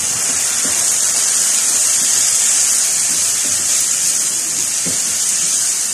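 Chili going into a pan of fried onion stalks for a winter fish curry, giving a steady, loud, close hiss of frying oil that runs unbroken, with a few faint clinks underneath.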